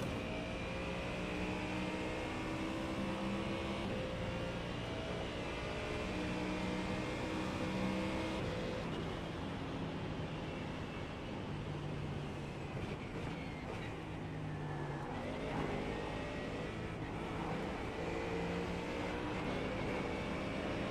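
Race car engine in iRacing, an IMSA car at Monza, droning steadily and loud throughout with sustained harmonic whine and shifting pitch, no talk over it.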